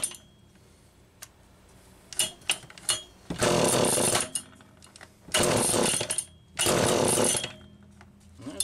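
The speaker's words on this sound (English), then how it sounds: "Almost feels like she's backfiring." Homelite Super EZ chainsaw with a Wico ignition running rough and backfiring, sputtering pops followed by three loud revving bursts with ragged gaps between them, close by.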